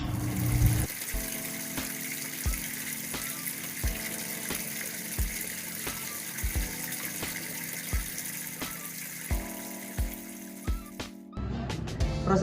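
Water from a small hydrological cycle model pours steadily like a running tap, with a faint motor hum beneath and soft regular knocks every second or so, ending in an abrupt shift near the close; no talking.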